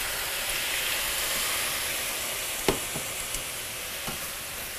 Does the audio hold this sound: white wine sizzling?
yes